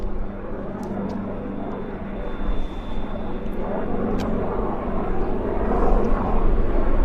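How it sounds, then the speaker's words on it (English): An aircraft landing on the south side at Vancouver airport: a steady, distant jet engine roar that swells gradually louder over several seconds, with faint voices in the background. "We got another landing on the south side."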